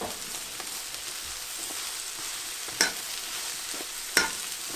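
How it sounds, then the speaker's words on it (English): Cabbage and paprika fry in a pan, a steady crackling sizzle broken by two sharp scraping stirs, heard up close without any talking. "I'll go ahead and add the cabbage and stir that up with the other ingredients"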